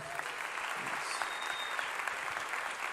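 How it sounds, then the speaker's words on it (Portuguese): Applause fills a church congregation, steady dense clapping from many hands continuing throughout at moderate level, with no speech over it. "Uma salva de palmas para Jesus, então."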